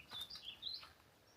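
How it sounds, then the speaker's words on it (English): Small birds chirp briefly in a thick aspen forest, a few quick, thin calls sounding faint and somewhat distant in quiet surroundings. "lots of birds."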